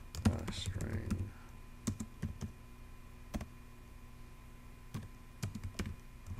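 Java code being typed on a computer keyboard in an IDE, with scattered single key clicks and short bursts of keystrokes, close and fairly quiet, after a brief spoken phrase at the start.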